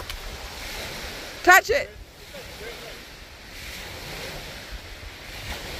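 Small waves lap along the shore of Loch Lomond at Milarrochy Bay on the West Highland Way, a steady soft wash under wind noise. A voice speaks briefly partway through.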